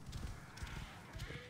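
Horse hooves in the video game Assassin's Creed Origins, a faint rhythmic clip-clop of galloping steps repeating steadily throughout, alone with no speech.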